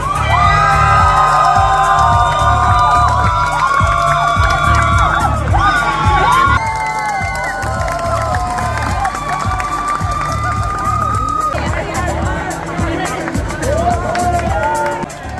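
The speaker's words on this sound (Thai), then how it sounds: "นายขอเสียงของกองเชียร์พร้อมเพลงหน่อยได้ไหมฮะ" A crowd of supporters cheers and shouts loudly at a Thailand Coffee Brewer League 2023 finalist announcement, with a pounding music beat running underneath throughout and the noise easing slightly partway through.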